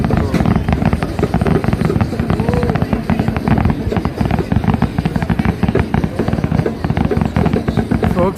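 Dense, continuous crackling and popping bursts from a fireworks display at the Honda Celebration of Light in Vancouver, loud and sustained, with a crowd audible underneath.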